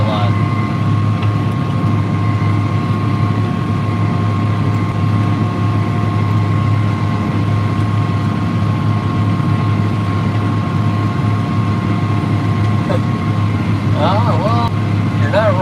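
A loud, steady tractor engine drones without pause, deep and constant, with a faint squeaky whistle near the end.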